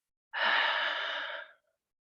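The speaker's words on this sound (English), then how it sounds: "taking an inhale and then on the exhale, using the exhales to push basically" A deep, controlled breath is taken as breathing practice for pushing during labor. One long, close, breathy exhale rises sharply, holds steady for about a second, then fades into silence.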